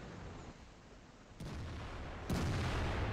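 Two tank cannon shots in the World of Tanks video game, each a sudden booming blast that leaves a sustained rumble, the second louder and closer than the first, with no talk.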